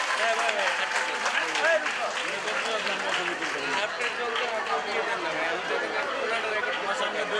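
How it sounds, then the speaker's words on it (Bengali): Audience clapping at a school prize-giving ceremony, a dense steady patter of many hands mixed with crowd chatter, continuous and moderately loud. "জোরে হাততালি দেব।"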